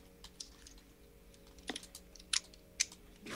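Computer keyboard typing during Minecraft play, scattered keystrokes with a few louder, sharper clicks near the end, close and fairly quiet with no talk.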